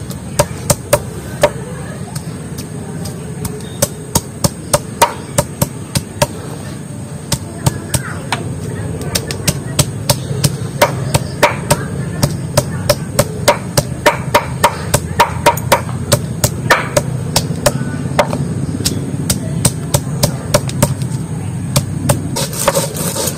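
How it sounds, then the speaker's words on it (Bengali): A stone pestle (nora) pounds spices in a kitchen while kochuripana masala curry is being made, giving a long series of sharp, steady knocks over a low background hum. "নোড়া দিয়ে ভালো করে পিষে আগে এইভাবে থেতে দেবো"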